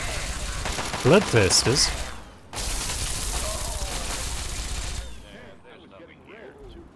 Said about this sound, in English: Now they found something else to shoot.